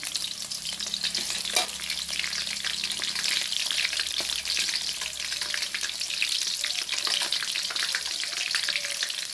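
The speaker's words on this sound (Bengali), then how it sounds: "এখানে তেজপাতা আর এলাচ আর দালচিনি দিলাম" Bay leaf, cardamom and cinnamon frying in hot oil alongside meat and a little onion, giving a steady, dense crackling sizzle throughout, with faint spatters and an occasional soft clink from stirring.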